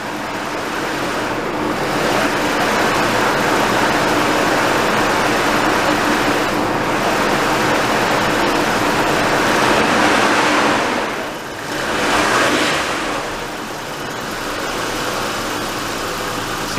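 A Nissan R32 Skyline with an RB25DE turbo conversion idles steadily just after its first start, a close, continuous engine rumble with slight swells and no talking.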